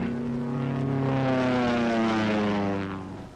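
A World War II propeller fighter-bomber roars past at low altitude during a skip-bombing run, its steady droning engine tone swelling loud and close before easing away.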